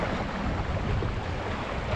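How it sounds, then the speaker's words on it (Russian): Strong wind roars steadily over rough water on a river trip between Svetlogorsk and Norilsk in the Putorana region, with waves washing against a boat in a dense, unbroken rush and no voices. "Ветер усилился, волна усилилась."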